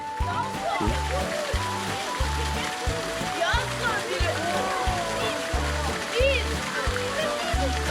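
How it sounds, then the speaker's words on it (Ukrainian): A small waterfall in a Carpathian theme park gives a continuous splashing rush beneath rhythmic music, with children's voices heard nearby. "Невеличкий водоспадок."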